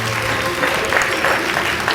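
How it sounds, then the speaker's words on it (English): Applause from a comedy club audience after a stand-up comedian, Oscar Franklin, is introduced, a steady dense clatter of many hands lasting a couple of seconds with some crowd murmur mixed in. "So a round of applause for Oscar Franklin,"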